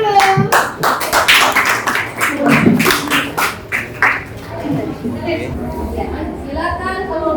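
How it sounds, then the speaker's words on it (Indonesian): Students in a secondary school classroom clap together in a burst of dense, close hand claps lasting several seconds, fading into voices chattering afterward. "Tepuk tangan dulu."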